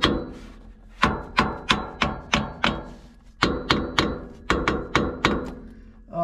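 Repeated metal hammer blows on a Nissan Pathfinder drive shaft, about fourteen sharp strikes in two quick bursts, loud and close with a ringing clank on each hit.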